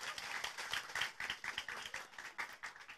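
A crowd at a political rally in Garut applauds steadily, with dense, fairly distant clapping throughout.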